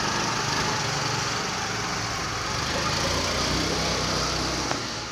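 A motorbike engine drones steadily at moderate distance, a continuous buzzing hum that holds fairly even throughout, with no talking.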